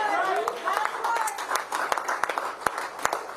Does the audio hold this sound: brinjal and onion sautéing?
no